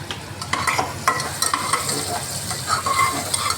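Ginger paste stirred as it fries in a pan, giving a steady close sizzle broken by scraping and clinking strokes of the spoon against the metal.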